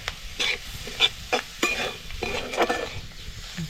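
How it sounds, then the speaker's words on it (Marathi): Grated fresh coconut and coriander being sautéed in a pan over a wood-fired stove, with quiet sizzling broken by repeated scraping stirs of a utensil against the pan, close and fairly soft. "चांगलं खोबरं कोथिंबीर अशी परतून घ्यायची"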